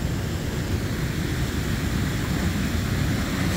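The flooded Willimantic River rushes past in a steady, loud, broadband roar of churning water, close by and unbroken, with no voices.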